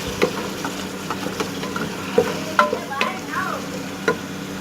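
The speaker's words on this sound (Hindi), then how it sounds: "अब हम इसके अंदर टमाटर ऐड करते हैं। टमाटर हमने इसके अंदर ऐड कर दिए हैं। इसको मिक्स करेंगे।" Tomatoes are stirred into onions frying in a pan for chicken karahi. A steady close sizzle runs throughout, with soft scraping and stirring knocks of a spoon against the pan. No one speaks.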